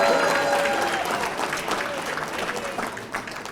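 A banquet crowd at a bowling association awards night breaks into applause, loud at first and gradually thinning and fading as the clapping tapers off.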